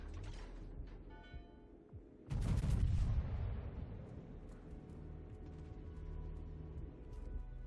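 Battleship main guns firing in World of Warships, a heavy broadband blast that booms and rolls off over several seconds, preceded by quieter mechanical clanks and ambient hum.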